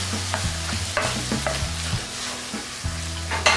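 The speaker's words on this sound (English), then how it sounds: "So now what I'm going to do is add a can of diced tomatoes." Vegetables sweating in a pan with a can of diced tomatoes stirred in, steady frying sizzle with repeated scraping strokes and a low steady hum beneath, close up.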